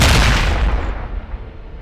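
A single heavy Panzerfaust blast booms in Return to Castle Wolfenstein, loud and close, its rumbling roar fading away over about a second with no voices.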